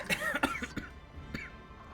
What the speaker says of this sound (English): had this cough since before the snowstorm hit